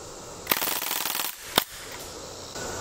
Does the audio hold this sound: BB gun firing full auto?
yes